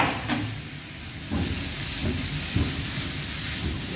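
Water splashed onto the hot sides of a frying pan hisses and sizzles loudly and steadily in a kitchen, with a few soft clatters of the pan.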